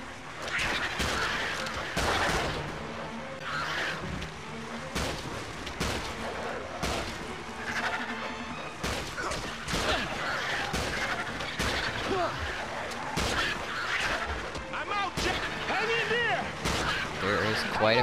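Rapid gunfire and heavy shots in the Peter Jackson's King Kong video game, dense repeated bangs and crashes throughout a chaotic battle, with voices shouting over the shooting.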